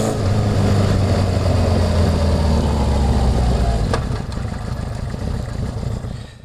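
A Honda CB750 motorcycle engine runs loudly close by with a rough, steady idle rumble, then eases to a slightly quieter level after a short click.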